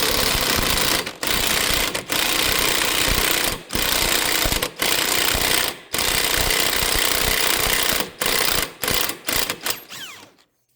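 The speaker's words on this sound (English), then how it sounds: "Removing the bearing bolts." Air impact wrench loosening the rear wheel bearing bolts on a 2015 GMC Acadia, loud sustained rattling bursts broken by short pauses, with a final series of quick stuttering hits at the end.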